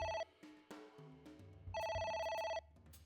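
A ringing telephone in AI: The Somnium Files sounds in repeated electronic trills, one short burst and then a longer sustained ring, with low game music underneath.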